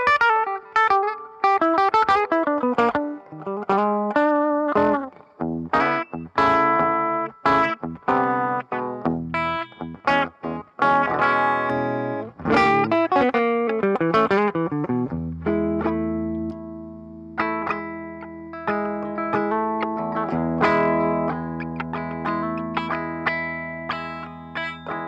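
A 1958 Gibson ES-335 electric guitar is played through effects with some distortion, first as quick lively runs and chords and then as held, ringing notes that sustain over a steady low tone, loud and close with no talking.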